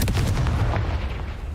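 Confringo fire-blast spell exploding in the video game Hogwarts Legacy, a loud, dense blast with a heavy low rumble sustained throughout, heard alone without talk.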